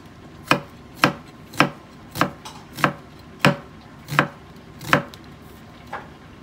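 A knife chopping onions into strips on a board for Korean japchae, about nine crisp evenly spaced chops, close and clear with no talking.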